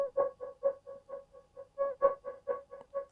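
Rhythmic stutter effect pitched up an octave in a house music drop: a quick run of about fourteen short, bright tonal chops pulsing evenly, with a louder accent near the middle, heard alone.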